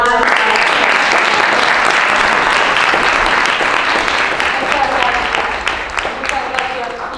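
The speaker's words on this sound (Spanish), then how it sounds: "Un aplauso." Loud, sustained applause from an audience at a dialogue session panel, a dense wash of clapping that holds steady for several seconds and thins slightly toward the end.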